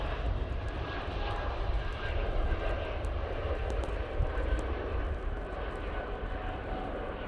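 Airliners at Manchester Airport, including easyJet and Ryanair jets, give a steady, broad engine roar that holds loud throughout, mixed with breezy wind noise and no talk.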